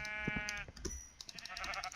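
Sheep in the Minecraft video game let out a few short bleats in close succession, loud and near, with clicks and game sounds in the background.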